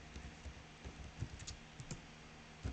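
Computer keyboard typing at a desk while writing Python code, a steady run of soft, close key clicks with a few sharper taps, no talking.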